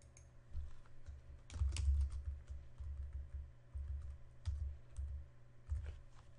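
Typing a router host name on a computer keyboard, a steady run of soft close keystrokes with small irregular pauses, quiet and alone without speech.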